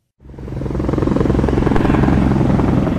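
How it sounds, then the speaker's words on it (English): Helicopters flying low over a wildfire evacuation roadblock on Lee Hill Road in North Boulder, their rotor thump swelling in from silence into a loud, steady pulsing drone that stays close and continuous. "Choppers are buzzing overhead as a long line of cars idles by a police roadblock on Lee Hill Road in North Boulder."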